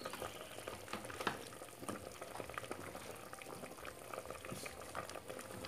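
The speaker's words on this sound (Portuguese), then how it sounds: "aqui agora vai pro fogo, ferver um pouco" Vegetables such as potato and squash boiling in water in a pot over the stove, a steady close bubbling and gurgling that continues evenly throughout with no talk.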